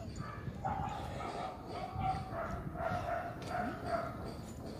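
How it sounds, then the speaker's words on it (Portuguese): A dog gives a run of repeated yips and whimpering barks, several short calls spaced across a few seconds, close by over a rough outdoor background. "Cachorra abusada."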